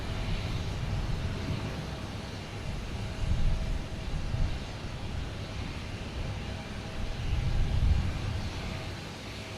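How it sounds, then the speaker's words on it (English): A Delta airliner from Rome in Team USA special livery approaches to land at Boston Logan in strong wind, a distant, low rumbling engine roar that swells twice, with wind buffeting and no talk. "Oh, we got a big one coming in here. Delta coming in from Rome."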